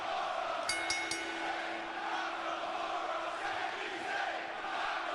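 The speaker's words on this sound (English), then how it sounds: "And that's a crowd, yo. WWE crowds." A large WWE arena crowd roars in a steady, continuous wash of cheering, dense and somewhat distant, holding at an even level throughout with no distinct voices standing out.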